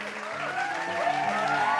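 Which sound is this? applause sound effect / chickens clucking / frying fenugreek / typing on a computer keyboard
applause sound effect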